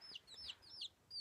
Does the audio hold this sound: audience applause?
no